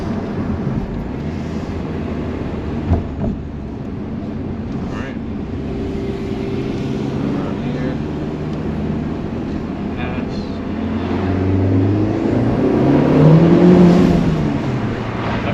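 A Honda FL5 Civic Type R engine with a PRL Stage One aftermarket intake hums and roars steadily with windows down and wind rushing past, swelling louder toward the end as the revs build.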